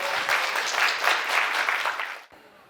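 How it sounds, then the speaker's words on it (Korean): Indoor audience applauding for about two seconds, dense steady clapping that swells and then cuts off abruptly into quiet room tone. "박수 한번 주세요."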